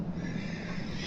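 A cavalry horse in a multiplayer strategy battle game gives a short, loud neigh over steady game noise.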